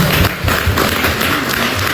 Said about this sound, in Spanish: Un aplauso para Fabiola